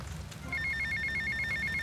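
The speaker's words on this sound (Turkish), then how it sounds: "Telefon çalıyor." A phone starts ringing partway through in GTA Vice City Definitive Edition, an electronic trilling ring repeating steadily and close by over a low background rumble.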